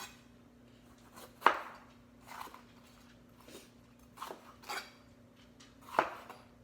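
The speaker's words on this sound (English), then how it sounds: "And you just want to chop up those peppers." Faint, close knife strokes through bell peppers on a cutting board, a handful of soft irregular chops with a steady low hum beneath.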